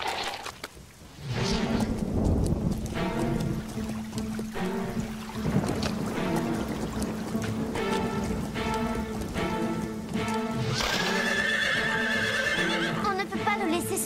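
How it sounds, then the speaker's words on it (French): Horses whinny loudly in an animated scene during a thunderstorm, with steady rain and hoofbeats beneath, and a long shrill neigh rising near the end. "Il faut rentrer les chevaux dans l'écurie."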